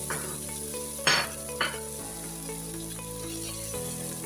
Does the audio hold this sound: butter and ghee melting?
yes